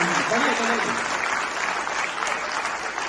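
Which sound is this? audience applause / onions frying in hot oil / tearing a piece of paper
audience applause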